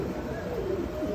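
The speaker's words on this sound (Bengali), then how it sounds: "এটা হচ্ছে আমার খুবই ভালোবাসার কবুতর, একজোড়া" A pair of red pet pigeons coo softly and steadily at close range, a low, continuous murmur with no talk over it.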